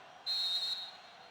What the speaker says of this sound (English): And the whistle will blow this one dead.